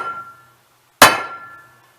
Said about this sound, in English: So what we do is take a punch,